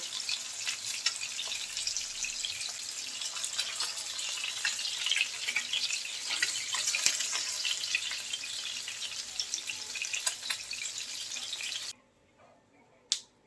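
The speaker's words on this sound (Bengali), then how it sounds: "এপিট উপিট উল্টে হালকা একটু ভেজে নিলেই হবে" Catla fish sizzles steadily in hot oil, a loud continuous crackle with popping, then it cuts off abruptly to near silence with one last faint click.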